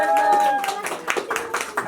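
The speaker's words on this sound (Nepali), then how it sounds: "ताली बजाऊ" Hands clap in a lively burst at an engagement celebration, a run of sharp claps building over a sung or held tone and voices in the room.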